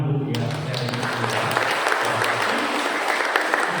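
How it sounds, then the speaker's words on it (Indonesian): Church congregation applauding during a homily, steady dense clapping that fills the space, with a voice talking briefly at the start. "Maka tepuk tangan untuk dia."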